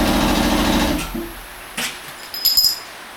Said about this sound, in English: Cue the air compressor.